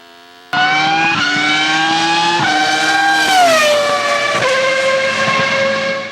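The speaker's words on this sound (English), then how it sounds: "with things such as a Formula 1 car that sounds like a Geo Metro rather than the iconic machines it was modeled after" Formula 1 race car engine from the video game Virtua Racing, a loud continuous synthesized drone with stepped pitch shifts as gears change, sustained for several seconds without speech.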